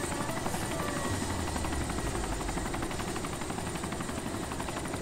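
Helicopter in the video game DayZ Origins, a steady loud rotor drone with a continuous buzzing whine that holds level throughout, no voices over it.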